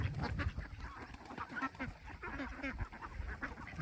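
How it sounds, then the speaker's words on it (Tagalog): A flock of seven-month-old Dumalagang itik ducks calls nearby, with dense, overlapping honking quacks that continue without pause over outdoor background noise. "May itik."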